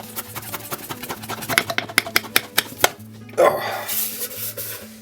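Banh mi bread dough is kneaded by hand on a hard surface, a run of rhythmic close thumps that speeds up, then gives way to a rougher rustling push of the dough.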